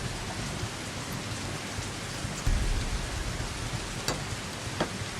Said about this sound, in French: Là, on prend une bonne averse.